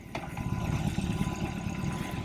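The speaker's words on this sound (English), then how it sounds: "you're just sitting on top of a motor that's just buzzing and vibrating and making noises" A 2021 BMW R18 cruiser motorcycle engine idles with a steady mechanical buzz and vibration, the cams and pushrods clattering more than any exhaust note, continuous and close.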